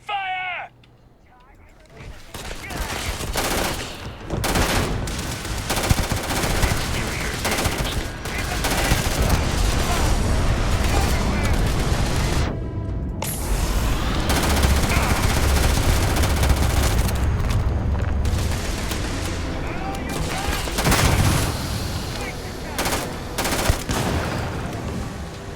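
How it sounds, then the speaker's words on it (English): Sustained gunfire in the video game Starfield goes on almost without pause, loud and close, with rattling automatic bursts and occasional booms, while voices speak over the shooting in places. "Open fire!"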